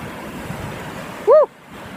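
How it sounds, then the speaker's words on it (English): Ocean waves break on a California beach, heard as a steady windy wash of surf with a rumbling low end. A brief loud tonal squeal cuts in near the end before the surf resumes. "And these waves are getting bigger as I speak."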